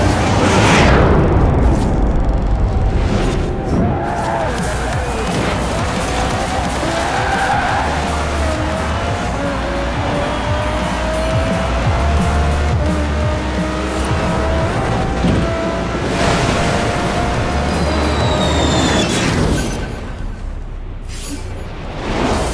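Loud race car engine roar with squealing tires from the driving game Forza Horizon 4, the Delta Wing car, sustained and close throughout, with rising and falling revs, skidding screeches and occasional impacts.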